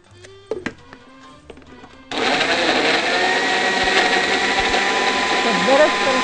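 After a few light knocks and clatters, a blender whirs to life and runs continuously at a loud, high-pitched roar, its motor pitch wavering as it purees tomatoes with chili and garlic.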